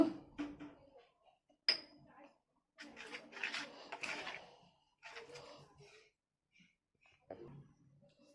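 An egg being stirred into batter in a bowl, heard as scattered clinks and scraping taps of a utensil against the bowl in short bursts separated by quiet gaps.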